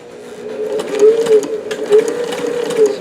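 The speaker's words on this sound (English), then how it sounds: "So here we have the machine working." A Davis Vertical Feed long-needle sewing machine fitted with a 15x1 needle stitches through thick canvas, a steady mechanical whir with rhythmic thumping stitch cycles, close and fairly loud.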